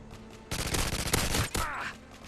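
Rapid automatic gunfire from a first-person shooter match on the Estate map, a dense burst of shots that stops abruptly and then resumes briefly, loud and close with no talking.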